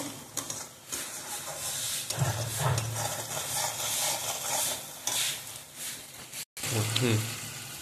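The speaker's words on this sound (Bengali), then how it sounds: "যতক্ষণ না তেল ছেড়ে আসছে ততক্ষণ এটার থেকে একদম কষিয়ে সুন্দর করে কষাবার চেষ্টা করব" Masala sautéing in oil for a homemade tengra fish curry, a continuous close sizzle and scraping stir with brief surges, partly under a voice, and one short break near the end.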